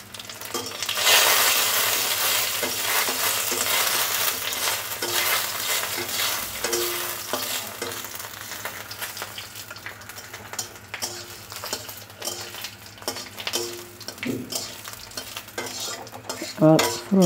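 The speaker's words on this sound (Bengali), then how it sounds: "আর দেব হাফ চামচ মতো মৌরি ফোড়নে।" Half a spoon of fennel seeds crackles in hot oil as a tempering, a strong sizzle that gradually subsides while a utensil scrapes and stirs the pan in short irregular strokes, close up with no talking.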